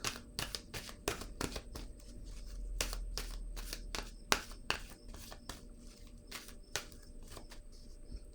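Tarot cards are handled and shuffled close up, a steady run of crisp flicks and riffles with brief pauses, quiet and alone.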